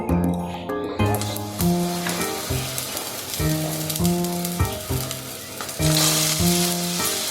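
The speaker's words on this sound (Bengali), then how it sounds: "আমার তেলটা গরম হয়ে গেছে, এক এক করে বেগুনগুলো দিয়ে দেব।" Brinjal pieces sizzle loudly in hot mustard oil, a continuous bright frying hiss with occasional stirring and scraping, and no talk.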